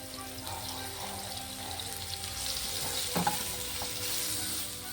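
Quiet, continuous sizzling of eggplant slices frying in oil, with soft stirring scrapes and a brief clatter near the end.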